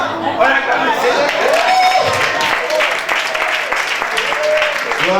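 A church congregation at a Sunday service applauds, a sustained wash of clapping under a raised voice and scattered crowd calls, with sung or chanted tones woven through.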